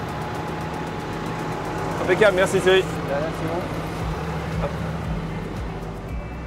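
A farm tractor's engine runs steadily as a low, continuous hum beneath people talking nearby.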